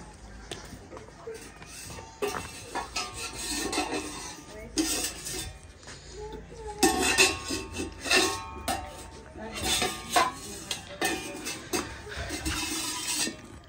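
Metal kitchen pots and utensils, including fennel and cardamom containers, clatter and clink in irregular bursts close by at a home, with scraping and rubbing between the knocks.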